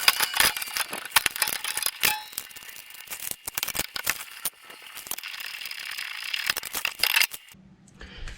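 Metallic clanks, clicks and rattles come from work on the brakes of a 2015 Mitsubishi Lancer as the two bolts are removed. The sounds are close and come in irregular bursts, with a brief quieter stretch near the end and no talking.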